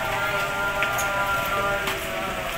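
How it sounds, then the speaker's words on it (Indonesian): Steady rain falls outside, a continuous even hiss with faint scattered drips, carrying on without a break and with no voices heard. "Aduh, hujan di luar."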